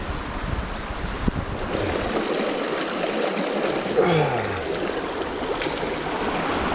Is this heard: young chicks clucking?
no